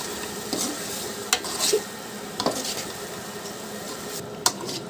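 Egg biryani masala being stirred with boiled eggs in a pan, a continuous moderate sizzle broken by a handful of scraping and knocking spatula strokes at irregular intervals, close by, with no talking.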